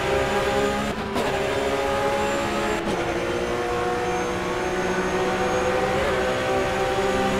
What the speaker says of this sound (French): on revient à la lutte sur la bosse de Flugsplatz avec Thomas Pinotto, 14e.